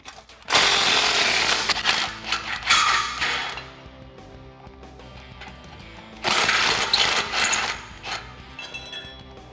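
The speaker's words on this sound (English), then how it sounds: "I'm using a 13 millimeter swivel socket to remove the 2 bolts holding on that factory flange." A ratchet with a 13 mm swivel socket works loose the two bolts on a factory exhaust flange under a V8 F150 pickup, giving two bursts of close, busy ratcheting clicks and metallic rasping with a quieter stretch between them.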